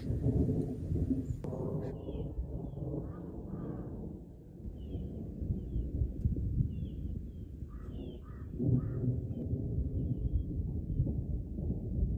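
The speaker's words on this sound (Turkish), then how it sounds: "şu anda yağmur yağıyor ve gök gürülüyor" Low, distant thunder rumbles under steady rain, with a crow cawing several times nearby.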